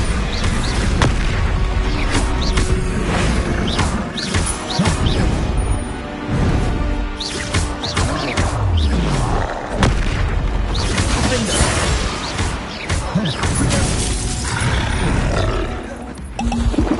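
Bombarda explosion spells cast in Hogwarts Legacy on PS5 boom loudly again and again, with roaring rumbles and crashing debris running through a dense, continuous stretch of action.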